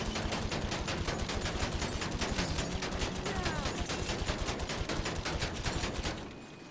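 A bullpup rifle fires at the front of a car in GTA 5, producing rapid, continuous automatic bursts that carry loud and close, then stop just before the end.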